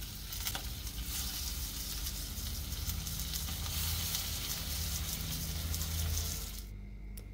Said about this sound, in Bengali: এখন আমি মাছগুলো একটা একটা করে ভেজে নিব।